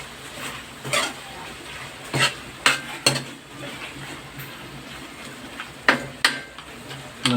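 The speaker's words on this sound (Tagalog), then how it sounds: "Ating haluin." Adobong isaw being stirred in a cooking pan, with irregular sharp clanks and scrapes of a utensil against the pan over a low background, and no one talking.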